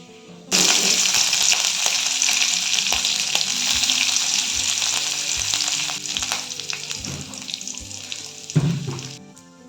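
Ginger and green chillies dropped into hot oil in a pan, a sudden loud burst of frying hiss that holds steady, with spatula scrapes and clicks, easing slightly toward the end.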